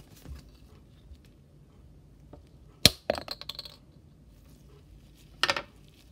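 A bird feather shaft is snipped while making a quill, a few crisp cuts and clicks in an otherwise quiet room: one sharp snap, a quick cluster of small ticks, then another cut near the end.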